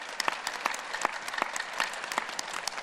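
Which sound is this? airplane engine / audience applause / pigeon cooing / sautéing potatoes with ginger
audience applause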